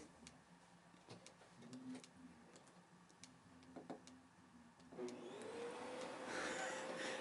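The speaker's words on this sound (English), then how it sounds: "And there's the vacuum cleaner again." A vacuum cleaner runs in the background of a quiet room, first as a low muffled hum, then swelling to a louder, steady whining roar that holds to the end.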